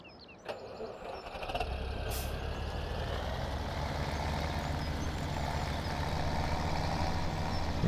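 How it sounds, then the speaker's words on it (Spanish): Tractor engine in Farming Simulator 2017 starts with a short click and thump, then settles into a steady, low, droning idle that runs on alone at moderate level. "Hay que ir con este tractor."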